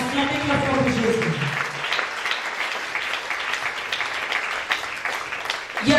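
A church congregation applauds for Jesus, a dense, steady burst of clapping from many hands filling the room, with voices calling out beneath it.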